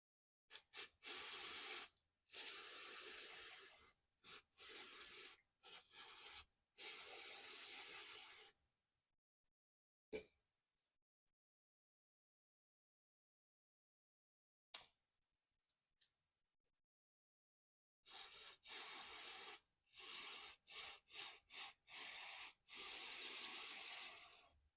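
Bursts of electronic cleaner spray on transmission shift solenoids in a garage, several hissing blasts in the first few seconds, silence with faint clicks in between, then another run of loud hissing sprays near the end.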